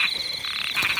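Frogs croak loudly and close by at a rice field pond, a raspy pulsing call that lasts about a second and stands alone with no talking.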